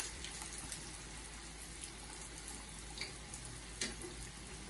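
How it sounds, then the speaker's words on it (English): Panades frying in oil make a faint, steady sizzle with soft crackling pops, close up and continuous with no voices. "They're frying up pretty nicely."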